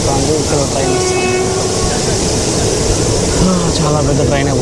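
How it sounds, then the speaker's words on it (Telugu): Aboard a long passenger train on the Bangalore to Tirumala line near Katpadi Junction, a loud, steady rolling rumble fills the space while a train horn sounds in sustained tones over it. "ట్రైన్ పోతుంది. ఇక్కడ ట్రైన్ వస్తుంది."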